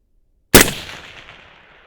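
A single loud Haenel CR6.5 rifle shot fired at long range, about half a kilometre, with an abrupt sharp crack followed by a decaying echo that rolls away over more than a second.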